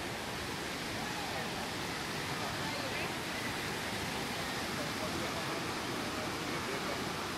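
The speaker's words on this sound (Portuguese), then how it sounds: "Uma pequena corredeira ao fundo." Small rapids of a waterfall stream at Cachoeira dos Prestos in Joanópolis, São Paulo, rush in a steady broadband wash, constant and moderately distant with no breaks.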